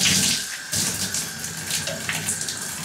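Tap water rushing steadily into a bathtub to rinse cleaner residue off its surface, a loud continuous splashing hiss with no speech.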